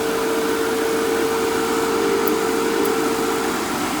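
MR45 refrigerant recovery machine running smoothly after fresh oil was added, giving a steady, even motor hum with a constant tonal whine and no knocking, close and alone.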